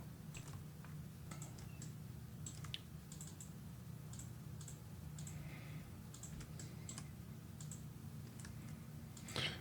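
A computer mouse clicks sparsely and softly, single clicks and quick double clicks spread irregularly over a steady low hum while someone works in 3Ds Max.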